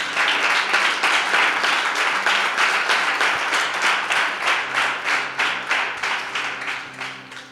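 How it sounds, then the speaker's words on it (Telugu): A church congregation clapping loudly together in a steady, even rhythm of sharp claps that carries on for several seconds and then eases off slightly toward the end. "గట్టిగా చప్పట్లు కొట్టి ప్రభు నామమున మహిమపడదాము."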